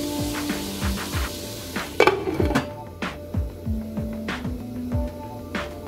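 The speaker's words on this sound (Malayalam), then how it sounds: "ഇടയ്ക്കൊന്ന് ആ ലിഡ് തുറന്ന് നമുക്കൊന്ന് ഇതിനെ ഒന്ന് ഇളക്കി കൊടുക്കണം." Bitter gourd and tomato stir fry stirred in a pan after the lid is lifted, with steady sizzling under repeated spoon scrapes and metallic clinks, including a louder clatter near the start.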